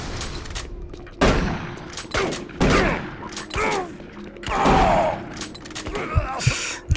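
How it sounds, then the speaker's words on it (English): Gunfire in the video game Doom 3, aimed at a barrel: a string of loud, sharp shots at irregular spacing, with clattering bursts between them, over about seven seconds. "trying to shoot that barrel"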